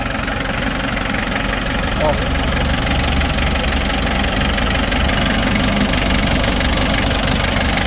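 Mitsubishi L300 with a 4D56 diesel engine idling with blowby, a loud, steady, rough mechanical drone with a constant low knocking rumble throughout, with a brief voice heard near the start.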